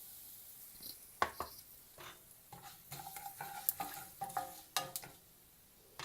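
Curry leaves dropped into hot oil with fried fenugreek for a garlic gravy, crackling and spattering in quick irregular bursts with faint utensil clinks.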